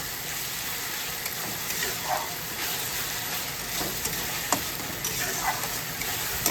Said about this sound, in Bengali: এবার এইটাকে সুন্দর করে একদম ভাজতে হবে